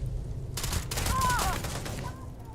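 Gunfire in the video game Starfield: a quick burst of sharp shots over a low rumble, with a short whooshing tone in the middle, fairly near and moderately loud.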